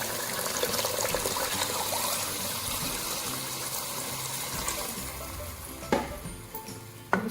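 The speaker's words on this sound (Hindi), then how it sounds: "अब इसमें पानी शामिल करेंगे।" Water poured into a pan of fried moong and masoor dal, a steady close gushing and sizzling wash with a few sharper splashes near the end.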